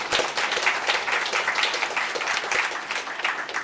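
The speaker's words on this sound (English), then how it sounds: "Let's give them a big round of applause." Audience at a summer meal program launch event gives a sustained round of applause, dense and fairly loud, with no talking over it.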